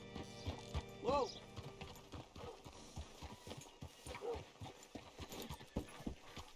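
Horse hooves clip-clop steadily on a hard surface in the video game Red Dead Redemption 2, with a couple of brief whinnies and faint background talk.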